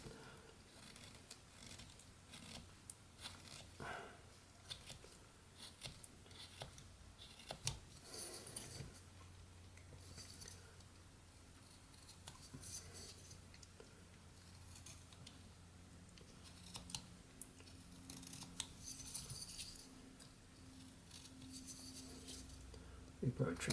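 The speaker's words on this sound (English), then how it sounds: "For the ears, I'm going to just take out a little more wood here." Pocket knife whittling a small wooden Abe Lincoln figure, with soft scraping and shaving scratches close by, irregular and fairly quiet, interspersed with a person talking.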